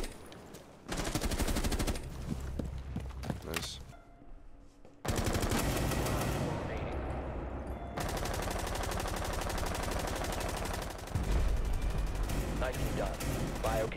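Rapid automatic gunfire rattles loudly in a Rainbow Six match, coming in long sustained bursts with short breaks, and voices talk over parts of it.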